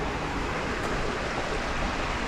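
A waterfall beside the C&O Canal trail near Brunswick, Maryland gives off a steady, broad rush of falling water, fairly faint and even, with no voices.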